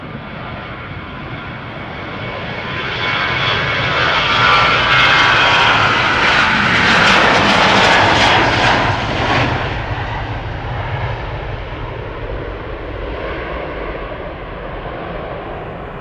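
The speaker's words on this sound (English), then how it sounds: "This is KLM flight 1109 going to Stockholm, a 737-800" A KLM Boeing 737-800 jet, four years old, roars past at an airport, its engine noise swelling to a loud peak midway and then easing into a steady fading rumble.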